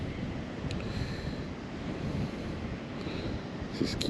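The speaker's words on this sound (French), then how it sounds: "Il y a un peu de vent, le temps est ensoleillé" Wind at a fishing pond on a sunny day rumbles across the microphone as a steady, low buffeting roar throughout, with a few faint higher clicks near the end.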